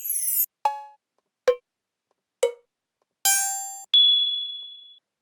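A series of bell samples triggered on a drum pad sequencer: six separate metallic dings and clangs of differing pitch, some short and clipped, the last ones ringing out longer, each struck alone with gaps between.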